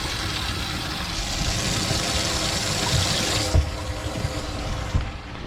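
Built-in water pumps run inside a tournament fishing boat, a loud, close, steady whirring hum with splashing water noise, broken by a couple of brief knocks.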